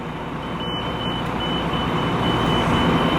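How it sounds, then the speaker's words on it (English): A reversing buzzer on a curtainsider truck trailer sounds in short repeated high beeps over the loud, steady rumble of the idling truck engine, heard from the cab with no talking. "you should be able to hear the buzzer getting louder at the back"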